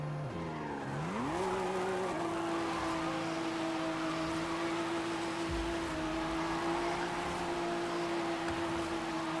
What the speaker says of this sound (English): This thing definitely sounds like it's got a 1JZ in it.